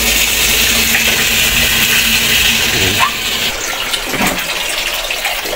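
Water gushes steadily from a plastic drum used as an overhead tank, a loud continuous flowing splash that shifts slightly in tone partway through without pausing.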